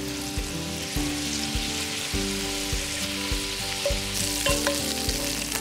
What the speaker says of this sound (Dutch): Dan is het moment om het vlees te bakken.